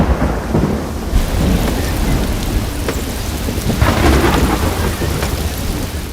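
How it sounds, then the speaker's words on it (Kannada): Torrential cloudburst rain pours down in Jammu and Kashmir amid flash floods, a dense, loud, continuous roar of heavy rain with deep thunder rumbling underneath and swelling bursts. "ಆಕಾಶವೇ ಕಳಚಿ ಬಿದ್ದಂತಹ ರಣರಣ ಮಳೆ"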